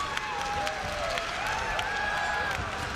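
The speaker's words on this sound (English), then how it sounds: "This crowd is loud" Loud, steady roar of an arena crowd at a One Championship MMA bout, constant and dense throughout, with a faint voice drifting over it.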